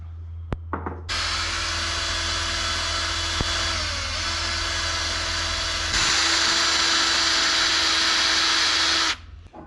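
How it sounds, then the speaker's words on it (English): A power tool grinds away part of a Vespa PX carburettor, a loud, close, sustained high-pitched whine that starts abruptly, shifts pitch slightly as it bites the metal, grows harsher, then cuts off. "I've done a marking on the carburetor and I will try to grind that bit off."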